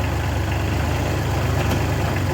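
A tractor engine runs steadily at close range while it places delivered logs, a continuous heavy low rumble with no pauses.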